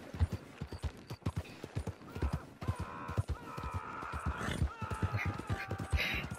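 Horse hooves clip-clop in a steady galloping rhythm in Red Dead Redemption 2, close and fairly loud, with a short whinny-like tonal cry partway through.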